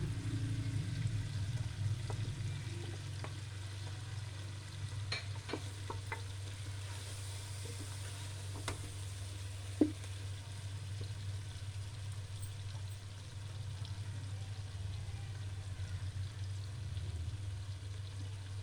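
Onions fry in a pot with spices, ginger garlic paste and tomato for a gourd and meat curry, a quiet steady sizzle with a few soft stirring clicks and no talking.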